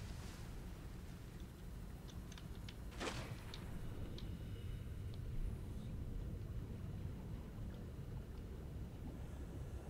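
Cyclops submarine engine in Subnautica powering up: a steady, loud rumbling hum with a watery, wind-like hiss, rising briefly with a few faint clicks and whooshes, and no voices.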